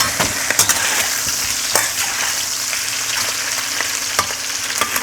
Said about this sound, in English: This shrimp is gonna cook for about 90 seconds.